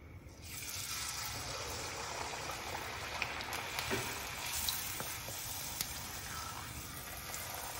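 Puri frying in hot oil, a steady close bubbling sizzle that rises in the first second and then holds, with occasional small pops and crackles throughout, no voices.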